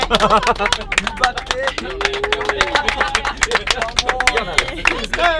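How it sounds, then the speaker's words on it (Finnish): An audience at a summer show in Kapakanmäki, Tampere, claps loudly and steadily throughout, with scattered cheers and whoops rising over the dense, close applause. "mun tekis mieli ottaa isot aplodit"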